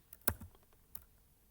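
A few quick keystrokes on a computer keyboard as a build command is entered, close and isolated clicks over a quiet background, with no talk.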